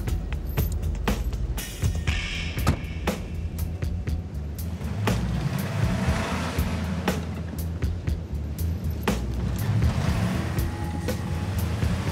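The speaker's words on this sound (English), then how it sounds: "They quickly attach a tow rope to his truck and pull it onto even ground." A truck is towed onto even ground with a tow rope, a steady rumbling engine and rolling noise broken by sharp knocks and clunks, close and fairly loud.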